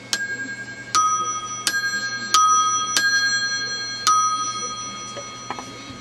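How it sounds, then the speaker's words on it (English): Metal ringer bells of a Western Electric 500 telephone are struck one at a time, about six or seven evenly spaced dings, each ringing out and fading into a steady background hum. "I have at least been able to find out what the bells would sound like"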